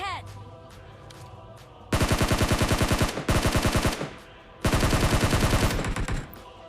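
Automatic gunfire in a battle royale video game as bots are shot, two long rapid bursts of loud, evenly spaced shots, followed by a shorter burst after a brief pause.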